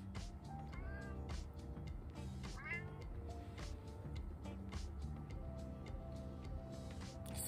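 A hungry cat meows repeatedly inside a car used as living space, several close, rising calls spread over a steady low hum, with no talk over them.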